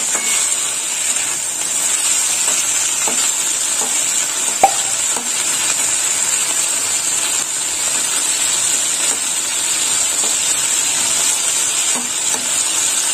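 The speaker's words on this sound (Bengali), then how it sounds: "ভাজা হয়ে গেছে, ভেন্ডি ভাজাটা এবার তুলে নেবো।" Salted okra frying in hot oil in a kadai, softening as it cooks: a loud, steady hiss of sizzling oil runs throughout, with faint occasional stirring clicks and no speech.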